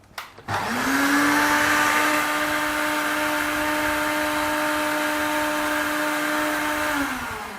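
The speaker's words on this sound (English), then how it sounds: "let's blend them. Okay, where's the blender? Yeah, the blender is here." A kitchen blender blending garlic starts with a clunk, then runs as a loud, steady motor whine that holds nearly constant for about six seconds before beginning to wind down.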